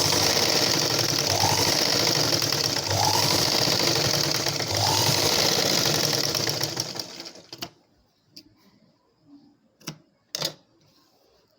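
Sewing machine stitching a blouse, a loud continuous mechanical whirr that runs steadily for about seven seconds and then stops, followed by a few scattered handling clicks and thumps in near quiet.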